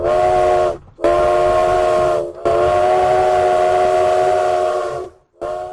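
A steam train whistle sounds at a station in Brunswick, Maine, in 1864: several loud, sustained blasts broken by short gaps, close and dominant over faint rumbling in the background.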